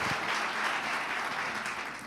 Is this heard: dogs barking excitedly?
no